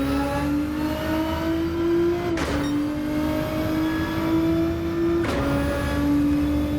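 Race car in Gran Turismo pulling away from the start, engine revving hard and climbing through the gears with two sharp upshifts, loud and steady throughout with no talking.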